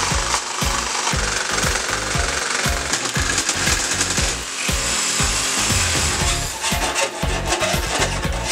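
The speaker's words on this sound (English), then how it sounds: "Jigsaw with a metal blade on it." A jigsaw fitted with a metal blade cuts sheet metal, its rapid reciprocating chatter loud, close and unbroken throughout.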